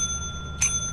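A single bright bell ding rings out in the Lethal Company video game, short and clear over a faint steady background hum.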